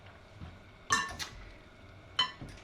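A utensil stirs linguine with egg carbonara sauce in a pan, with two sharp metallic clinks against the pan and soft scraping between them, close and quiet.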